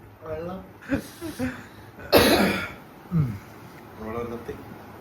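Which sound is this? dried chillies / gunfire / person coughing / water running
person coughing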